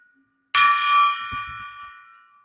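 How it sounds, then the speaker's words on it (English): A metal gong is struck once, giving a bright, loud crash that rings on with a shimmering tone and slowly fades over about two seconds, heard alone with faint low knocks beneath. "Let's ring the gong."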